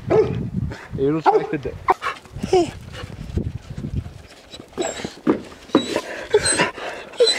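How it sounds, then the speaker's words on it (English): Dogs in the small town of Sunrise bark, pant and whimper close by while people talk over them. "We were greeted by some dogs."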